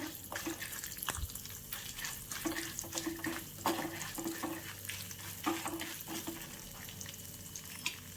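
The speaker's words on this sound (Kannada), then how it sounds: "ಇದನ್ನು ಸ್ವಲ್ಪ ಹುರ್ಕೊಳ್ಬೇಕು ಒಂದು ಆರು ಏಳು ಕೆಂಪು ಮೆಣಸಿನಕಾಯಿಯನ್ನು ಹಾಕ್ಕೊಳ್ತಾ ಇದ್ದೇನೆ" Six or seven red chillies roast in a pan, a soft continuous sizzle with light scraping and stirring clicks from a spoon, fairly quiet and steady throughout.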